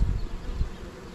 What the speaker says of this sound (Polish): No, te pszczółki są łagodniejsze.